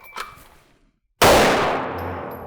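A single sharp, loud pistol gunshot cracks out during a headshot drill at the 5-yard line, followed by a long ringing decay. A fainter clatter comes before it, then a short silence.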